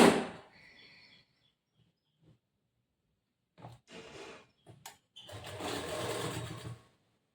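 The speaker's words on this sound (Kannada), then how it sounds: "ಇಲ್ಲಿ 1/4 ಇಂಚ್ ಬಟ್ಟಿಗೆ ನಾವು ಸ್ಟಿಚ್ ಮಾಡ್ತಾ ಬರ್ಬೇಕು ಪೂರ್ತಿ" A sewing machine stitching a boat neck blouse runs in a few short bursts separated by pauses, with a longer steady run at the end, fairly close and quiet.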